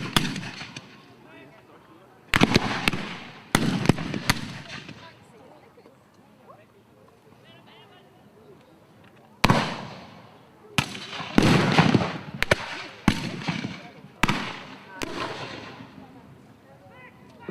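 Rifle shots ring out at a New Zealand Wars battle reenactment, sharp loud cracks in scattered bursts and volleys with quieter gaps, while someone talks between and under them.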